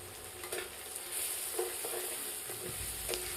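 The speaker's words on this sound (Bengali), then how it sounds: "খুন্তি দিয়ে ভালোভাবে পেঁয়াজ রসুন বাটাকে ভালোভাবে মিশিয়ে নিলাম।" A spatula scrapes and stirs onion-garlic paste in a hot frying pan, soft repeated strokes over a quiet, steady sizzle.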